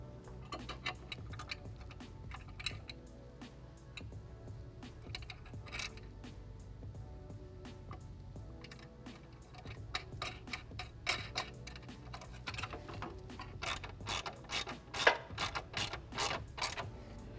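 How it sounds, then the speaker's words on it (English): Metal washer, lock washer and nut being fitted onto a Rigid Industries fog light mounting bolt, a quiet series of close, sharp metallic clicks and ticks with a light rattle, growing busier toward the end, with no talking. "And now we just need to add that washer, lock washer, and nut on the back"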